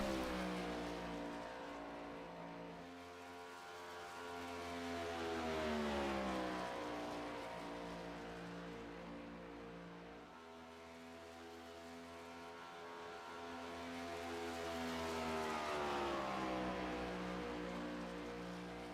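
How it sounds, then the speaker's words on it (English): Race cars circle a track, their engines rising and falling in long revving sweeps as they pass, a steady loud drone with no voices. "A lot of cars out on track already"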